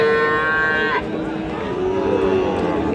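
Sahiwal cattle at a busy cattle market give a drawn-out moo that fades after about a second, followed by a fainter second call beneath steady crowd murmur.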